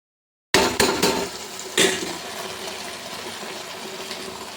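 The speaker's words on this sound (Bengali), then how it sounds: "নাড়াচাড়া দিয়ে একটু গরম জল দিয়ে আমি ঢাকা চাপা দেবো" A utensil scrapes and knocks against a cooking pot of banana flower curry, with a few sharp clanks near the start and then steady quiet sizzling.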